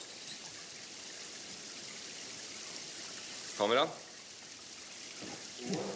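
Artificial rain on a film set sprays in a steady, even hiss that runs the whole time, under a brief spoken word and a short bump of handling noise near the end.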